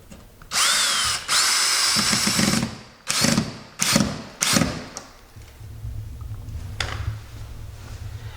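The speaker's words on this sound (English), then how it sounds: "Always want to make sure that you sink the screws." A power drill drives screws into sheetrock during a wall patch, with several loud whirring bursts of varying length, the first two long and the later ones shorter and choppy, then a low steady hum.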